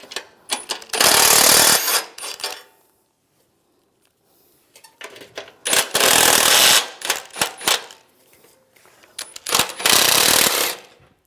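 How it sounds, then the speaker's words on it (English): Impact wrench removing bumper nuts with an 18mm socket on a 2007-2013 Chevrolet Silverado 1500: three loud, close bursts of rapid hammering, each about a second long, separated by quiet pauses and small clinks. "Take those out, use an 18mm socket."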